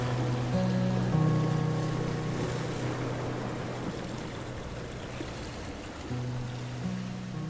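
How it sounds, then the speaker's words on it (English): Water rushes steadily from a pair of waterfalls near a small village in Indonesia's volcanic Magelang area, a broad continuous roar with a low engine-like hum coming and going underneath. "And now we stopped by these 2 waterfalls before heading to Nepal or Java, which are 2 very beautiful waterfalls."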